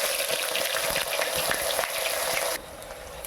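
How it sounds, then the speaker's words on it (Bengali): Whole garam masala and bay leaves sizzle in hot oil, a dense steady crackling hiss close up that drops noticeably quieter near the end; no speech. "তেল গরম হয়ে গেছে, ফোড়নে গোটা গরম মশলা তেজপাতা দিয়ে দিলাম।"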